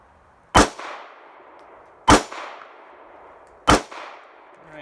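A Smith and Wesson Bodyguard 380 pistol fires three single shots at a range, each a sharp loud crack with a short ringing decay, evenly spaced about a second and a half apart.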